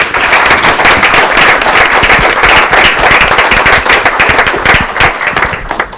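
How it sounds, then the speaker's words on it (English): A room at a Board of Education meeting gives the Elementary Honors Chorus a round of applause, loud, close and densely packed clapping that holds steady before tapering at the end. "Let's give them a round of applause."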